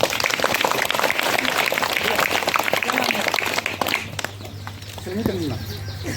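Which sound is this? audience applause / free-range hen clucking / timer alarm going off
audience applause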